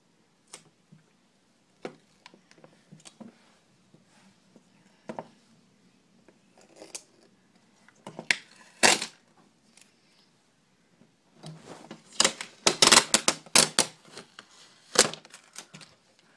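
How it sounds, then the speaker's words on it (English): Clear tape is pulled and cut into a strip for a duct tape basket, giving sparse sticky clicks and crackles that build into a denser burst of peeling and snipping near the end, close and quiet with no voices. "you're going to take your clear tape and you're going to cut out a 13-inch strip"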